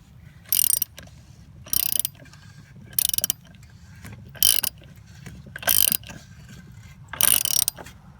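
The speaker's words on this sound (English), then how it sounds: "Then put your tool, cap remover tool back on there." Cap remover tool ratcheting while tightening the oil filter cap on a Mercedes M104 engine, six short close metallic ratchet bursts spaced at a steady rhythm over a low background hum.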